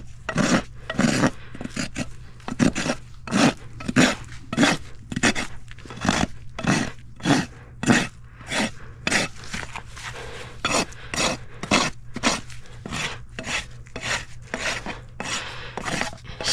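Close, steady rasp strokes across a horse's hoof during a trim, each dry scraping pass repeating in an even rhythm about every half second, heard alone without talk.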